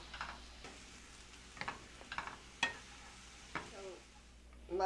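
Ingredients for keto egg foo young, including mushrooms, being stirred in a pan, giving several separate scraping and clattering strokes over a faint sizzle, fairly close and moderately quiet.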